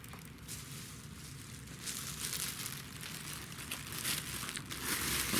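Plastic bags crinkling and rustling as they are laid over a worm bin bedded with pine shavings, a steady close crackle that swells slightly toward the end.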